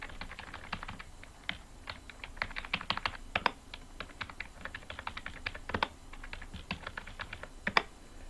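Steady typing on a computer keyboard while entering values into an Excel spreadsheet, with irregular bursts of close, crisp key clicks and brief pauses, no talking.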